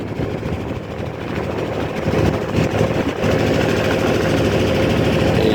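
A boat engine drones loudly and steadily on Kaptai Lake in Rangamati, a continuous rough motor hum that swells slightly partway through, with no talking.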